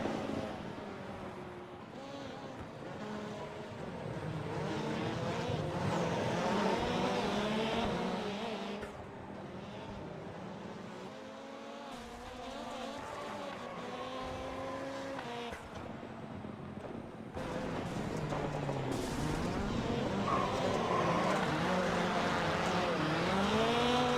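Several race car engines roar together in an iRacing oval race, cars running three wide through the final corner, layered pitches rising and falling as they pass, with a race commentator talking over the steady engine noise.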